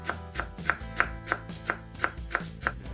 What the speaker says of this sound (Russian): Измельчаем пучок укропа.